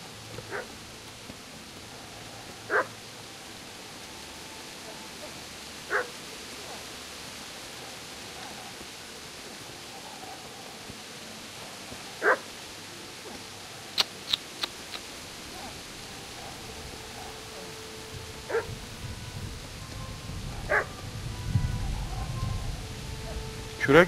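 Dog barking in the medieval role-playing game Kingdom Come: Deliverance, a few short sharp barks spaced several seconds apart over a steady hiss of ambient noise, with a louder rumbling bed near the end.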